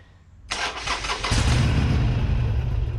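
A 2008 Harley-Davidson Sportster 883C is cranked after an oil filter and primary oil change. The starter whirs abruptly out of near-silence, then gives way to a loud, steady, close low engine rumble.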